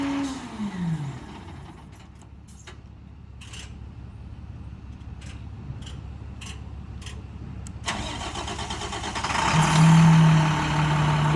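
A 2013 International mechanics crane truck with an IMT 10000 series crane cranks over and starts, then idles steadily before revving up louder near the end, heard close with no talking.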